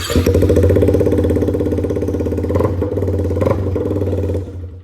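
A Yamaha MT-15 motorcycle engine runs loud and close with a harsh, raw open-exhaust rumble, steady throughout before cutting off near the end.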